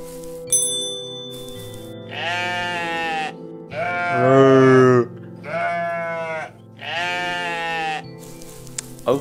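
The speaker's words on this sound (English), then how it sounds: "Why is this sheep like that?" A sheep in a video game lets out several loud, drawn-out bleats one after another, separated by short pauses, with a faint tonal game sound underneath.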